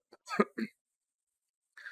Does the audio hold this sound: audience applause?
no